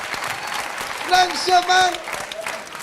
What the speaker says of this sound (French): Applaudissez pour les filles.